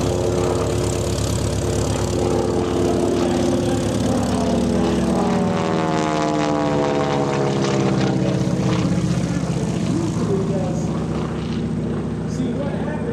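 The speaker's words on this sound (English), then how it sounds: "the tips of the blades, he breaks the speed of sound with the propeller tip. Makes quite a racket." A propeller airplane at a county airshow roars past with blade tips breaking the speed of sound, a loud sustained buzzing drone whose pitch sweeps downward as it passes, with an announcer talking over it.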